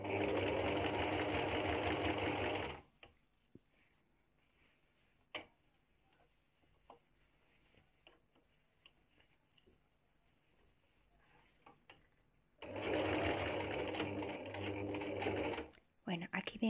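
Sewing machine stitching the hem of a pair of jeans, with a loud, fast mechanical whirring run for about three seconds, a long quiet pause with faint clicks, then another loud burst of stitching near the end.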